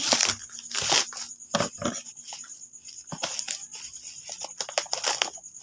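Several sharp crunching, crinkling snips of packaging being cut open with blunt scissors, close by, in irregular bursts with brief pauses between.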